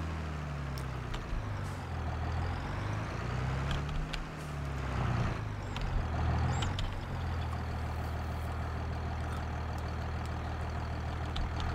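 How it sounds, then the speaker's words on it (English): A tractor engine runs steadily in the farming video game Farming Simulator 22, a low, even drone at moderate level with a slight swell in the middle and no talking. "So we're going to quickly hop back in our tractor"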